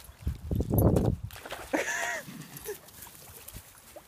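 Rapid padded footfalls of a whippet thud along quickly like galloping hooves, followed by a brief high squeak and quieter shuffling.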